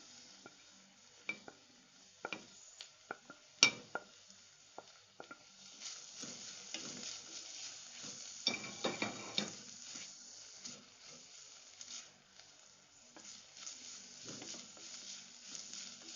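Onion, ginger, garlic and green chili fry softly in a pan, a low, quiet sizzle broken by scattered clicks and scrapes of a stirring spoon, with a louder stretch of sizzling midway.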